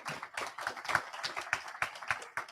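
A small group claps at a Quarterback Club gathering, quiet, uneven handclaps in quick succession, sounding somewhat distant and sparse rather than a full roar.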